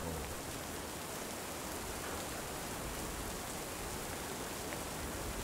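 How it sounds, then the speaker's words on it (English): Steady rain falls in the horror video game Lunacy, a constant, even hiss of drops with no breaks, faint and without voices. "I need to look for shelter from the rain before I catch cold."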